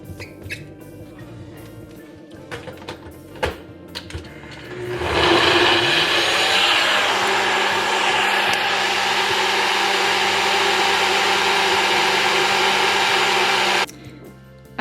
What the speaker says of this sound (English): I always let it run through 1 cycle, and then I always blend it again.